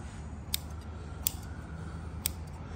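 Scissors trimming excess cloth on a table rail, three crisp, isolated snips spaced about a second apart over a low, steady background hum.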